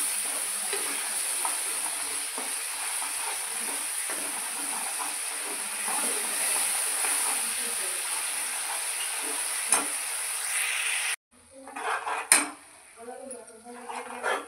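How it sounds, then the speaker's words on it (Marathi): Masala with ginger paste frying in oil for dum aloo, a continuous bright sizzle with occasional spoon scrapes and clinks against the pan, cutting off near the end before some louder stirring clatter. "बघा बऱ्यापैकी मसाला आपला तळलेला आहे, असं पूर्ण त्याने तेल सोडून द्यायला पाहिजे तोपर्यंत।"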